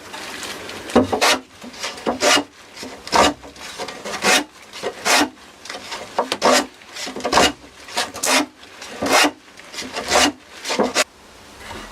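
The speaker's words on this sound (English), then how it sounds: "this should be easier now for me to sand this down" Wood on a guitar build is sanded by hand in close, loud rasping strokes, about a dozen back-and-forth passes in an even rhythm.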